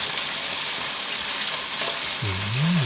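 Loud, steady sizzling of tomato spaghetti sauce frying in a hot pan, a continuous crackling hiss close by, with a brief low scrape near the end.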